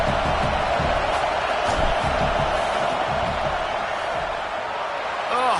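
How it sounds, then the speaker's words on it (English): A stadium crowd roars steadily in a college football video game between Auburn and Tennessee as a long field goal attempt is set up, a dense, loud wash of cheering and noise throughout. "This crowd trying to do its part to get inside the kicker's head."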